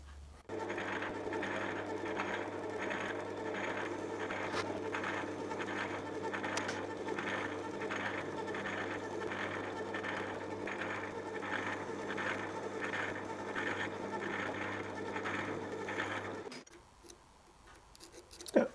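A lathe takes a light facing cut to clean up the face of a Quorn tool grinder spindle, a steady, fairly quiet mechanical hum with a regular rhythmic ticking pulse that runs evenly, then stops near the end.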